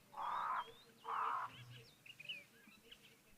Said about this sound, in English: all is mostly quiet here except for the crows, which are squawking away at Okukuyo